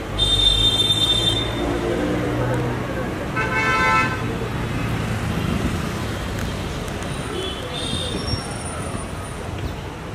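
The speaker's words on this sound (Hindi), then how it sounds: "गाड़ी" A car pulls up in busy street traffic with a horn honking in short, loud blasts spaced several seconds apart. A steady roar of traffic and nearby voices continues underneath.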